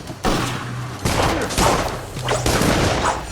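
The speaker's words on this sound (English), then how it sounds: "I've been shot. By that bastard with the gun" Gunfire in Dungeon Siege III comes as several loud, close bursts of shots, each sharp onset followed by a rumbling tail, spaced irregularly across the moment.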